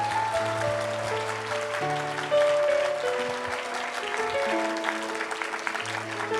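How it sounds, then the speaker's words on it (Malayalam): A church congregation claps through a sermon, the sustained applause mixed with steady held keyboard tones, with a brief spoken word over it. "മനസ്സിലായെങ്കിൽ ശരിക്ക് കൈയടിക്കും മക്കളെ"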